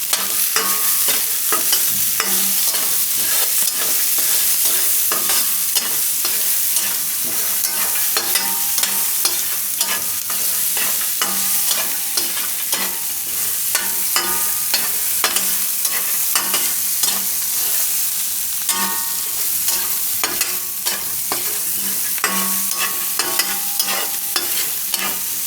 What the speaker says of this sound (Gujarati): મરચાં આ રીતે શેકાઈ જાય ત્યાં સુધી એને શેકી લેવાનું